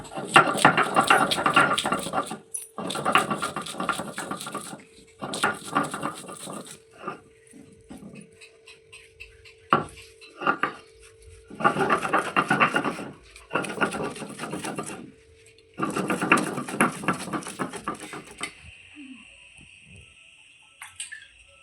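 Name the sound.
garlic being ground to a paste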